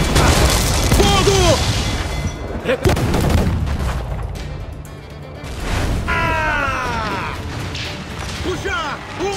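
Naval cannon fire from ships in the Assassin's Creed IV Black Flag video game: loud booming shots and crashes recurring through the clip, mixed with shouted commands from crew voices.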